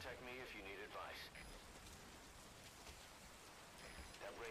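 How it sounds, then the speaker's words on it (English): Steady rain in the stealth game Metal Gear Solid V: Ground Zeroes, a faint, even hiss of drops on surfaces, with a brief warbling electronic tone near the start. "That rain just won't let up."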